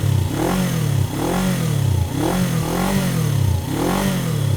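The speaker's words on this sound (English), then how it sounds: "That sounds like an aftermarket exhaust to me" A Suzuki GS500 LAMS motorcycle with an aftermarket exhaust revs in about four rising and falling surges, loud and close, with a fruity tone and no talk.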